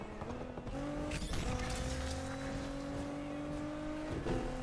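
Race car engine in Need for Speed Unbound whines at a steady high pitch, shifting gears once early, with tire squeals and continuous motor drone throughout.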